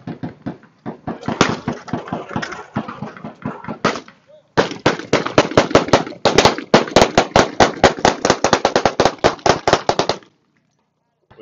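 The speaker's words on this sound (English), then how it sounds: "Just want to shoot a couple downrange." Beretta A400 semi-automatic shotgun shots fired downrange at a Shot Show 2016 range day crack out as loud, sharp reports in rapid, closely spaced runs, with a brief voice at times.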